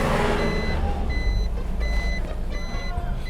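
A truck's reversing alarm beeps repeatedly while parking, four evenly spaced high electronic tones over a loud rumbling diesel engine close by.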